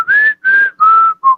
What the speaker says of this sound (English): Somebody whistle for me.